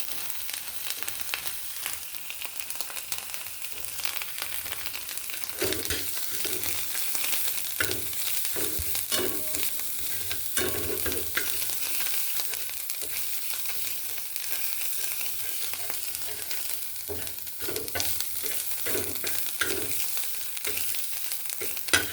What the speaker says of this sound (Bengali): পেঁয়াজটা ভেজে নিচ্ছি এবার এতে একটু আমি হলুদ গুঁড়ো দিয়ে দেবো